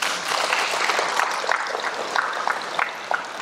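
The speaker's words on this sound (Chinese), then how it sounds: "来，我们给人类鼓掌一下。" An audience at a psychology talk bursts into brief, dense applause, many hands clapping together in a steady crackling wash at moderate volume.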